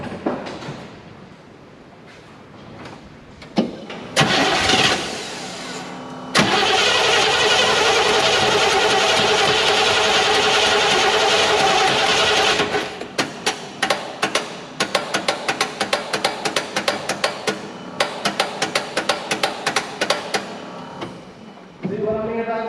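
Chevrolet Nova Super Sport engine cranks and catches, settling into a loud steady idle before a run of sharp revving bursts and then cutting off; a starter struggles briefly at the start.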